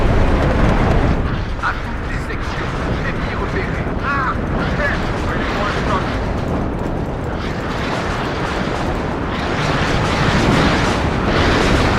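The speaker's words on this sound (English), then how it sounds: "And here comes another Buratino strike" Buratino rocket airstrike explosions in WARNO: a loud, sustained rumbling roar of blasts rolls through the whole stretch while someone talks over it.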